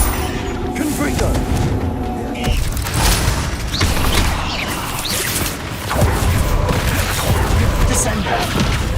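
Confringo explosion spells cast in Hogwarts Legacy, mixed with other combat spells: a busy run of booms, crackling blasts and mechanical clatter, loud and continuous, with a voice calling out over the action.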